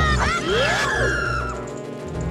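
Warbling, sweeping screams sound in a horror romhack of Zelda: Ocarina of Time, loud and layered over a dense, continuous game soundtrack, fading slightly toward the end.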